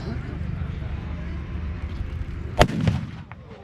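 A gun fired from the front of a Land Rover used as a platform at an outdoor show: one sharp, loud blast cracks out over a steady rumble of crowd and idling engine, followed by a brief echoing tail.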